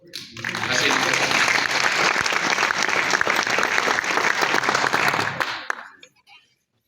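A large crowd breaks into loud, dense applause and acclamations at a public political gathering, sustained for several seconds before fading out abruptly.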